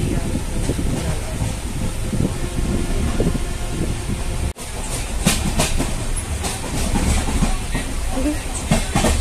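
Train rolling along rails, heard from inside as a steady loud rumble with rhythmic clickety-clack and scattered clanks. The noise drops out for a brief instant midway, then returns just as dense.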